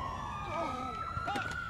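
Police siren wailing during a chase in the video game Watch Dogs 2, a steady rising-and-falling electronic wail that stays loud and close for the whole short stretch, with other game noise underneath.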